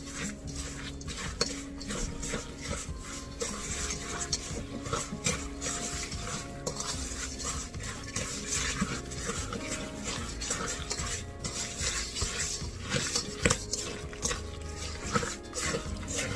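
A utensil scrapes and clinks continuously around a bowl while oatmeal spice cake batter is stirred, close and busy with a steady rhythm and no talking.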